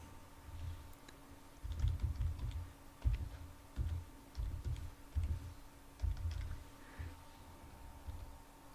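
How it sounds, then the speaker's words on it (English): Hand typing on a computer keyboard while setting up a Raspberry Pi 4B, a close run of short irregular key clicks in bursts with brief pauses, no voices. "I'll type it in by hand."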